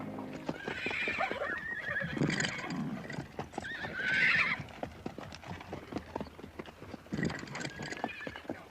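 Horses whinny loudly several times while hooves clop steadily nearby, with no one talking.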